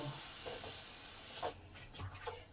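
Spices and moringa stem pulp are stirred in a frying pan over a steady, quiet sizzle, with a few soft scraping strokes near the end.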